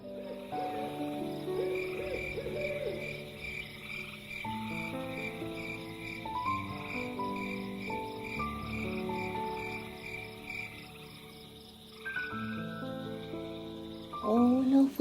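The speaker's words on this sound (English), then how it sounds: "Bambi and Thumper could hear the song of the crickets" Steady chorus of night crickets and croaking frogs under soft orchestral music, continuous throughout with a brief louder swell near the end.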